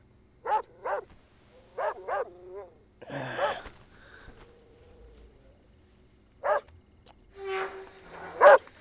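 A dog barks in short repeated bursts, first in quick pairs, then again after a pause, during a street scene in a dubbed action movie; other scuffling noises fall between the barks.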